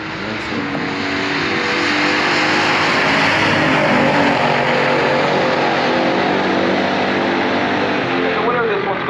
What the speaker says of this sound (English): against Paul Aragona from Rochester, Michigan with this Formula Firebird with a 455 Super Duty engine.